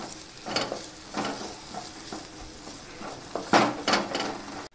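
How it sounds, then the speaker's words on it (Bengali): Chicken mince sizzles as it fries in a pan while a utensil stirs and scrapes in short bursts, close up, with no talking. "এবার নেড়ে চেড়ে এটাকে আমি একটু ভাজা ভাজা করে নিচ্ছি যতক্ষণ না কিমাটা নরম হয়ে যায়"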